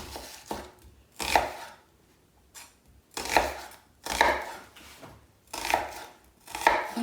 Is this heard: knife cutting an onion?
yes